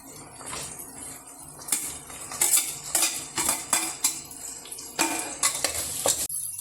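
Onions tipped into a hot pan of spices for mushroom biryani and stirred, giving clattering metal scrapes and knocks of a spoon against the pan in uneven bursts over a faint sizzle, close and fairly loud with no talk.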